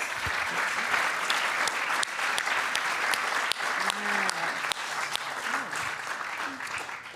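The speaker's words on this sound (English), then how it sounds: "let's give them a great round of applause" A crowd gives a patient panel at a Stargardt disease summit a long, steady round of clapping, moderately loud with a few sharper individual claps standing out and faint voices murmuring underneath.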